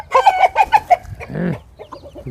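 A fighting rooster, a young cockerel offered for sale, clucks in a quick run of loud, close calls. A rougher, drawn-out squawk follows, then softer clucks.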